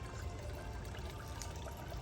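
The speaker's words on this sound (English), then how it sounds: "Do you hear the sound of water?" A garden water feature trickles and splashes continuously at low volume outdoors at night, with a soft, even wash of flowing water and no talking.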